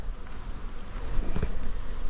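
Honey bees in a late-summer beehive, just given feed, hum in a dense, continuous buzz with individual bees droning close by.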